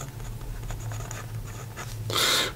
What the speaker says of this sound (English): here we go with the writing sample for the Parker Duofold